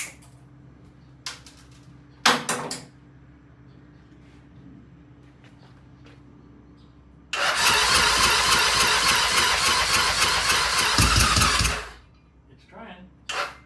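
A choked engine on its first start attempt with a weak battery, cranking loudly and steadily for about four seconds in one burst, with brief earlier clicks and short bursts around it and a quiet hum between.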